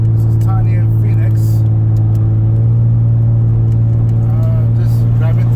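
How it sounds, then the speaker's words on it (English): A car drives along a road toward Pasadena, its engine and tyre rumble making a steady low hum that runs unbroken throughout. "Just driving through."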